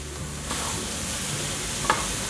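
Carrots and mushrooms stir-fried in a wok give a steady hiss of frying with scraping stirs and one sharp clink near the end, close and moderately loud, without speech.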